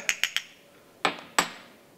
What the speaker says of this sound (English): So, a little bit of a stir, as we always recommend now.